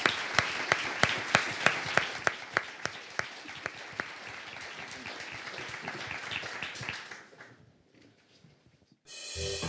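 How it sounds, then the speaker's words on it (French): A seated audience applauds the speakers of a panel on battery storage in France, with dense, crisp clapping for about seven seconds before it thins and dies into near silence. "qu'on applaudisse chaleureusement nos intervenants"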